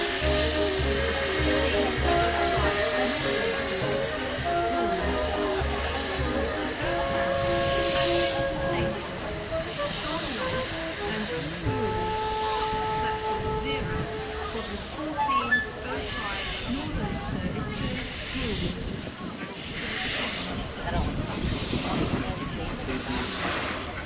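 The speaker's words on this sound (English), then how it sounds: "this massive steam engine pulling away with a rake of coaches" A steam locomotive chuffs and hisses steadily as it pulls away, with rumbling wheels and rolling stock, a loud continuous wash of steam and rail noise.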